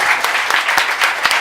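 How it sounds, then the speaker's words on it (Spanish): Brief burst of dense audience applause for debate speakers at an economics debate in Chile, close and steady with crisp individual claps. "Quiero pedir un fuerte aplauso para los expositores."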